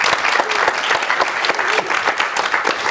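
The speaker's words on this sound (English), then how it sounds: "And I think a round of applause before we start." A live audience at a television technology talk claps in a sustained, dense round of applause, steady and fairly loud throughout with no voices breaking through.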